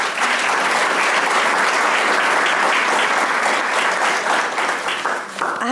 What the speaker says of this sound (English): Let's give Meghna another round of applause.